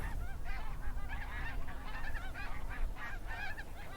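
Greater snow geese honk continuously in a dense wetland flock, many loud overlapping calls layered into a constant noisy clamor with no voices.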